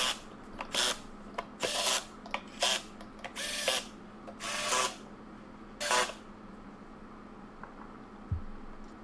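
Screws being tightened down on the battery cover of a Halo Rover hoverboard during a DIY battery replacement: a string of short, close whirring and grinding bursts with brief pauses between them, no talking.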